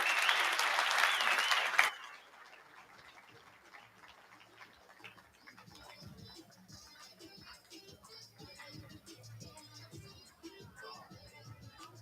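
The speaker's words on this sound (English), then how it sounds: "A big round of applause for these amazing agents." Applause from a real estate conference audience for the agents, a loud burst of many hands clapping that cuts off abruptly after about two seconds, followed by quiet murmuring and shuffling in the room.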